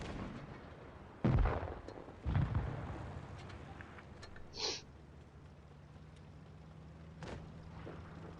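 Video game gunfire: two heavy booming shots close together, followed by fainter pops and a short whooshing burst, with quiet game ambience between them.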